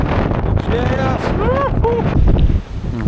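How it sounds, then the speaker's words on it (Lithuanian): Strong wind buffets the microphone with continuous low rumbling gusts, roaring steadily throughout, while a voice exclaims over it. "Koks vėjas!"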